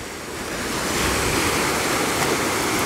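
Sea waves wash steadily onto a beach, a continuous close rush of surf with wind noise and no voices.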